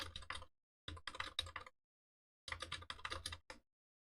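Bursts of rapid typing on a computer keyboard, three quick runs of key clicks separated by short pauses, close and fairly quiet with no talking.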